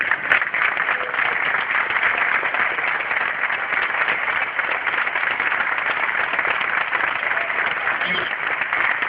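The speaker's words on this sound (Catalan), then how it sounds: "Jo voldria demanar-vos a tots vosaltres un aplaudiment pels companys que estan tancats a Santa Maria del Mar" Outdoor crowd at an Eleventh of September independence rally in Barcelona breaking into sustained, loud applause that holds steady for several seconds with scattered cheers.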